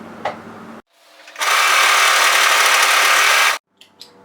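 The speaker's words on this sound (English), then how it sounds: "make sure the notches are on the fold top and bottom, and then overlock, serge those together" An overlocker serges sweatshirt cuffs together in one continuous, loud mechanical whir of about two seconds, with brief handling clicks and shuffles before and after.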